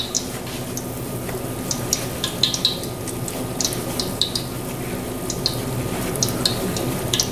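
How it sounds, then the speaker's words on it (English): Food rinsed under a running kitchen tap, a steady stream of water with irregular splashes and patters as the food is moved under it, close and alone. "rinse this food off here"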